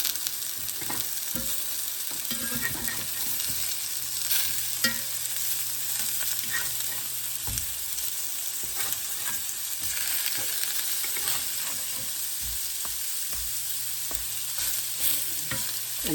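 Venison Salisbury steak patties fry in a pan, a continuous bright sizzle with scrapes and knocks as the patties are stirred and flipped, heard close and without talk.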